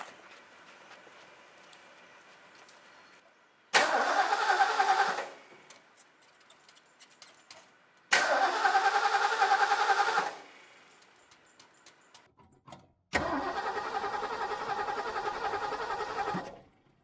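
A 1970 Ford Mustang Mach 1 with a carbureted engine cranks in three separate bursts of a few seconds each, the starter churning loudly and evenly without catching, with quiet gaps between attempts.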